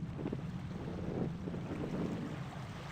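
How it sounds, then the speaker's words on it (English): Steady running water in the Year Walk video game, a continuous close rush with a low, even wash and no breaks across the whole stretch. "I hear running water."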